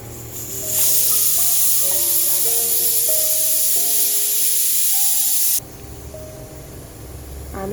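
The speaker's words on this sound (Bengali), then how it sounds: "প্রেসার কুকারও সিটি দিচ্ছে" A pressure cooker whistle blasts steam while mutton kasha cooks, a loud continuous hiss holding for several seconds before cutting off abruptly into softer background noise.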